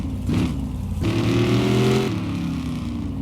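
Car engine in the video game My Garage revving up as the car rolls off, loud close engine note climbing in pitch, cutting briefly and rising again, with no talking.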